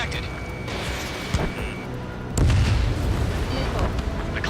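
A missile strikes its target and explodes in the air-combat game Ace Combat 7: Skies Unknown, a heavy low boom that bursts in partway through and rumbles on over a steady background of jet and game noise.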